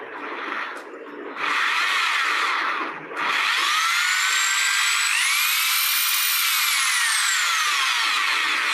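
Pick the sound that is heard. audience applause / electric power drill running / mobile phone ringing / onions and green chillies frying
electric power drill running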